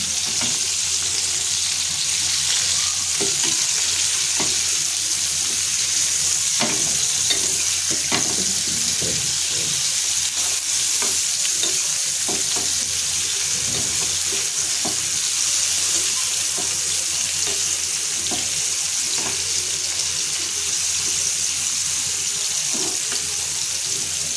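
Bombay duck fish frying in a pan with curry leaves and chilli, a loud continuous sizzle with occasional knocks and scrapes as the pieces are flipped.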